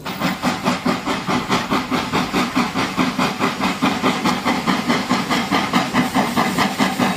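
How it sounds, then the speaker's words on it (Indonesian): A Thomas toy train chuffs out a rhythmic electronic steam hiss in fast, even pulses, steady and close for about seven seconds, with no clear whistle standing out. "Ada kereta api Thomas,"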